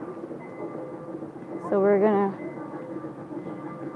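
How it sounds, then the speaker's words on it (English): A mini train passes at the old Jerusalem train station in Israel, giving a brief, loud, tonal horn-like sound over steady background rumble while a person talks. "And also we can see again the mini train."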